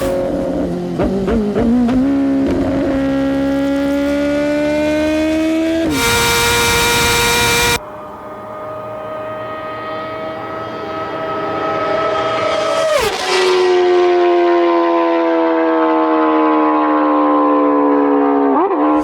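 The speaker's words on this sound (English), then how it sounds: "They represent the smoothest motorcycle engines and produce that iconic high-pitched sound at higher RPMs." Inline-four sport motorcycle engine revving hard at high RPM, a loud high-pitched whine that climbs in pitch through repeated passes, with a short burst of broadband roar partway through.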